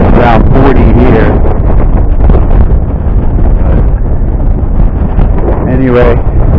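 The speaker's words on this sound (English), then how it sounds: "It's windy and breezy." Strong wind on the Appalachian Trail, with snow on the ground, buffets the microphone with a loud, low rumble throughout, while a person talks over it.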